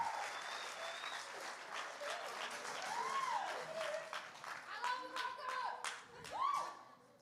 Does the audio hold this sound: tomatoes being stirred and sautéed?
no